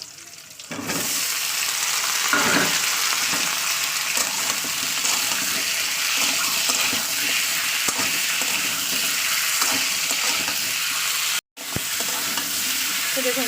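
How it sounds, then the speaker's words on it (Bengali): Potato being stirred in hot oil with browned onions in a pan, a loud, steady sizzle of frying with scraping stir strokes throughout and one brief break near the end. "জাস্ট আলু দিয়ে তেলে নাড়ছি"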